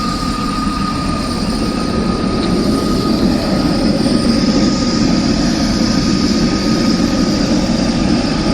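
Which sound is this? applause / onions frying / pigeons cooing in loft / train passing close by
train passing close by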